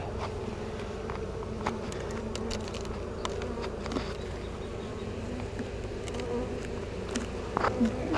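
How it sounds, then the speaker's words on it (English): Honeybees buzz loudly and steadily at an open hive during an inspection, a dense, continuous drone close by with no talking. "don't know if you can hear how the bees got loud"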